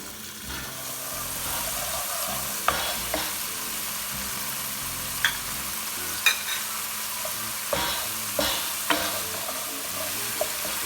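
Chopped onion and garlic paste sizzle steadily in a pan, a continuous frying hiss broken by occasional stirring clicks and scrapes, fairly close and with no talking.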